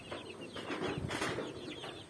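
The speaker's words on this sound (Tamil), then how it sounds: "நாட்டுக்கோழி பார்த்திங்கன்னா இது" Free-range country chickens clucking and squawking in a busy barnyard, several birds calling over one another with soft rustling, fairly close.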